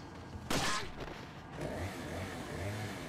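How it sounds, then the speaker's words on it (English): A chainsaw in the Resident Evil video game bursts in loud and close, a harsh broadband roar lasting about half a second, followed by scattered bangs and a lower sustained rumble of game noise. "Chainsaw."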